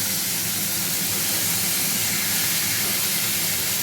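Cauliflower florets and long-cut potato pieces hitting hot oil in a pan for a simple vegetable dish, giving a steady, loud broadband sizzle and hiss that runs unbroken throughout with no talk.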